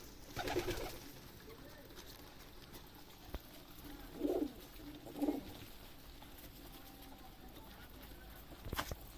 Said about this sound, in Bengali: আমি আজ আমার কবুতরগুলোকে ধান দিয়েছি খাবার জন্য